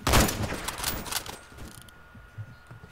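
Gunfire from the online shooter game Phantom Forces: a dense, loud burst of shots in the first second and a half, then scattered quieter pops and thuds trailing off.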